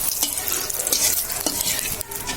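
Cumin seeds, bay leaf and dried red chilli frying in hot oil for a prawn lentil dal, a close steady sizzle broken by several sharp stirring scrapes.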